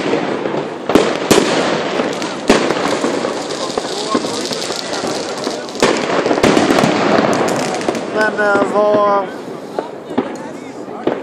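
New Year's Eve fireworks and firecrackers in Blackeberg, Bromma, crack and bang repeatedly, sharp bursts close and far, under a steady crackling hiss with people talking nearby.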